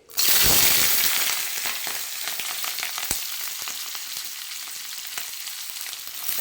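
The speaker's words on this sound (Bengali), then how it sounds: "তেলটা বেশ গরম হয়ে গেছে, এবার আমি এগুলো ছেড়ে দেবো আস্তে আস্তে।" Lentil fritters drop into hot white oil in a wok, setting off a sudden loud sizzle that settles into steady crackling frying with scattered pops, close and without talk.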